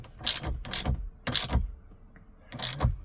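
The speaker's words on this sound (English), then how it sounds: "And now I use my socket to get it really tight on both sides." Socket wrench ratcheting to tighten the bolts of a screen swivel mount bracket inside a Tesla Model 3/Y, four short bursts of close clicking with brief pauses between them.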